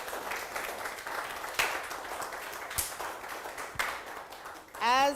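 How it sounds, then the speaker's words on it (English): An audience applauds at a livestreamed Latinx Educator Awards event, a moderate, uneven patter of clapping with a few sharper claps, ending in a short burst of voice at the close. "A last round of applause for everyone"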